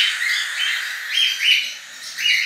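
Several cockatiel chicks just taken from the nest, giving high, thin chirps and squawks in quick repeated bursts, close by and fairly loud, with no talking.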